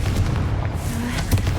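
A Confringo fire-blast spell bursts in Hogwarts Legacy as a close, heavy boom with a deep rumbling low end, part of a spider fight, sustained and loud with a brief sharper crack near the end.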